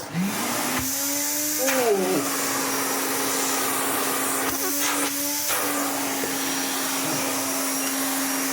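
A restored 1980s Hoover Constellation 867a vacuum cleaner running loud and close, a constant airy roar with a steady motor whine that briefly wavers as airflow changes through the hose.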